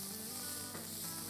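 Shallots fry in oil for a snakehead fish curry, giving a steady close sizzle with no voices.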